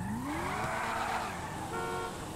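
Dinka Jester sports car engine in GTA 5 Online: a steady, close-up revving drone with a rising pitch sweep, then a held higher note near the end, alone with no talk.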